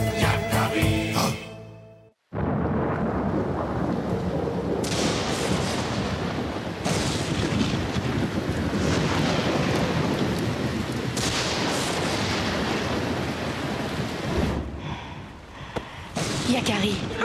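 Thunderstorm in the French Yakari cartoon: after a brief musical opening and a sudden drop to silence, heavy rain pours steadily with deep, rolling thunder rumbles building loud and close throughout.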